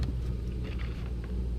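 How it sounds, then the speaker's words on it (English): A tractor bush hogging in the distance gives a steady, low engine rumble that carries on throughout without a break, with no talk over it. "You hear the tractor in the background."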